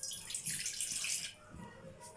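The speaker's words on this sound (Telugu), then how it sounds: "కొన్ని వాటర్ అయితే పోయాలి గైస్ ఆ బౌల్లో." Water poured into a bowl on a lit stove while cooking with potatoes and eggs: a short, close splashing rush lasting about a second, then fading to quieter background.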